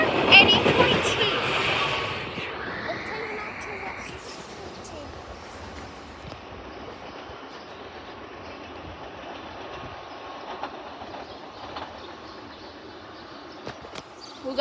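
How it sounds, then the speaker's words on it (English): Trains roll through the Elkins rail yard on National Train Day, a steady rumble of railcars with a loud burst at the start, a fading squeal around the third second, and faint birds and distant voices over the continuous wheel noise. "We got 2 more trains"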